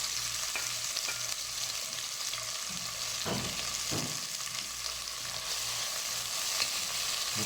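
Ginger and garlic paste with onions stirred as it fries in a pan, a steady close sizzle throughout with a few soft scrapes of the spoon, no talking.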